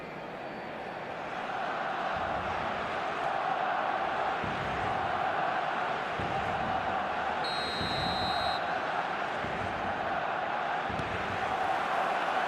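Stadium crowd noise from the eFootball football video game, a steady broad roar of fans that swells after the first couple of seconds and holds loud throughout, with a brief whistle-like tone partway through.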